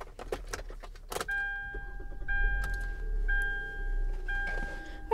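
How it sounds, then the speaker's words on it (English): Inside a 2015 Hyundai Tucson GL at ignition: keys jangle, then a repeating chime dings at steady intervals while the engine settles into a low idle hum, close and fairly quiet. "So I'm just going to turn the vehicle on."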